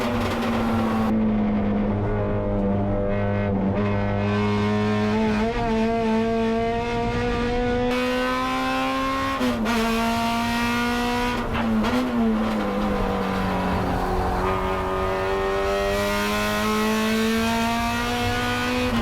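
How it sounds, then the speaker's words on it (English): Honda Civic four-door race cars race nose to tail on a circuit, engines droning loud and steady with rising and falling revs as the pack runs close together throughout. "And for the lead, look at this, nose to tail, Catil and Rosenberg battling"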